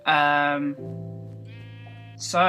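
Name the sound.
sheep bleating in the video game Minecraft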